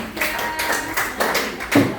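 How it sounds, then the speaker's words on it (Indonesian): Scattered clapping for a presenting group during a coding and artificial intelligence training session, a few sparse, uneven claps spaced through a couple of seconds, fairly close and not very loud. "Beri tepuk tangan aplaus untuk kelompok 3."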